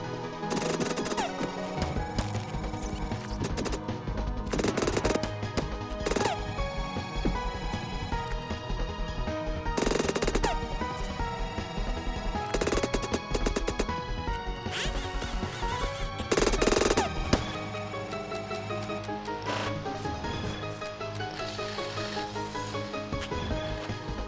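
Gunfire in the Roblox game 99 Nights in the Forest during a cultist attack, heard as repeated sharp bursts of shots over a dense, continuous game music and effects bed, in sped-up play.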